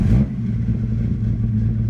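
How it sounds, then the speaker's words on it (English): A Volvo 850 T-5R engine running on E85 fuel catches on the first try, a brief cranking burst settling into a steady, loud, close idle rumble. "Nice, fired up first try."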